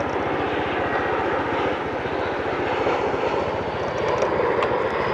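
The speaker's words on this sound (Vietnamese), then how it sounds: "Máy bay kia." An airplane passes overhead near a river on the outskirts of Saigon, its engine drone loud and continuous with a steady pulsing throb throughout.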